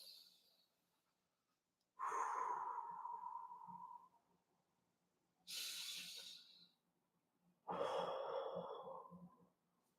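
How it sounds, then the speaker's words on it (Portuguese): Two deep, slow breaths, each a long breathy rush of air close to the microphone with a softer burst between them, in a quiet room with a faint low hum. "Eu dei essas 2 respiradas aqui e já fiquei zen."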